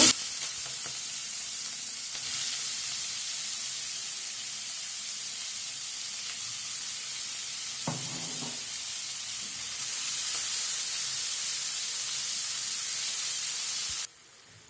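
Onions dropped into hot oil after carp has fried, giving a long steady hiss and sizzle with one brief clatter midway, then an abrupt stop.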